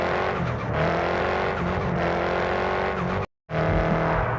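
Car racing along in a racing video game, a steady loud engine drone with harmonic whine and tire noise, cut by a brief dropout of silence near the end before the engine roar resumes.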